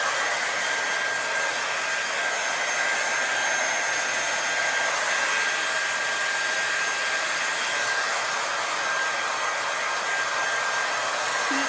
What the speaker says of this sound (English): Blow drying until it starts to stand up.